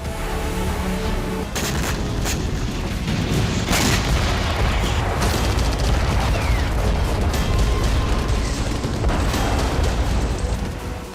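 A sustained, loud barrage of tank, artillery and rocket booms and sharp cracks in Kherson, Ukraine, overlapping one another, with several distinct heavy blasts standing out through the steady roar.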